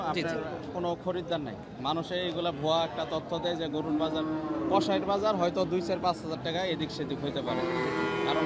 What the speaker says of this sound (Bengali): এই যে গরু গরু নিয়ে আসছে গাই গরু